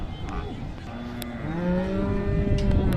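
A calm domestic cow moos at a cattle market in Sangola, a long low drawn-out call rising in pitch over crowd noise and some background talk.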